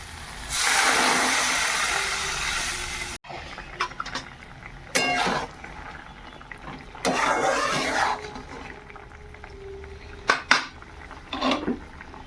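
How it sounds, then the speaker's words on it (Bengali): Water poured into a hot cooking pan, a loud bursting hiss for a few seconds, followed by clinks of utensils, scraping and short bursts of splashing and bubbling, close by. "এবার জলটা দিয়ে দেবো।"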